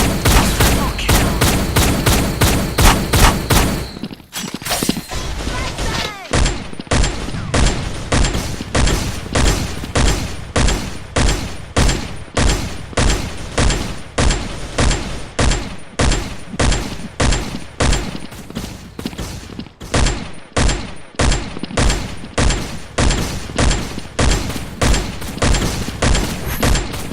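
Rapid video-game shotgun blasts fire in a steady, relentless stream for the whole stretch, each loud booming report closely following the last, with only brief pauses between volleys.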